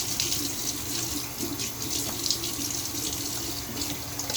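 A tap runs water steadily into a sink, a constant close hiss and splash with no pauses and no talking.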